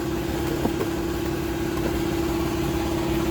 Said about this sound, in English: A little bit of aluminum polish on a air grinder with a rag on it.